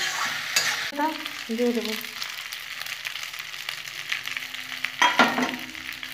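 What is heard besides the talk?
food frying in a pan while making pasta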